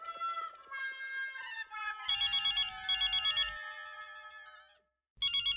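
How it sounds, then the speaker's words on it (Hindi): A mobile phone ringtone plays a bright electronic melody, loud and close, then cuts off briefly before starting again. "अंजलि का फोन"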